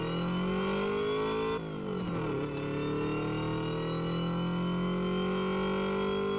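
Supercharged car engine in the Redline Reverie racing game, revving as a loud, steady drone whose pitch dips briefly partway through and then climbs gradually back up.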